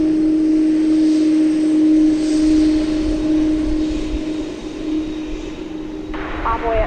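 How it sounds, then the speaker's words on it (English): A UPS MD-11 cargo jet taxiing at DFW Airport at night, its engines producing a sustained loud droning roar with a steady tonal hum that swells and eases slightly, with a faint brief click near the end. "So this becomes the second MD-11 we will have over here at the UPS depot."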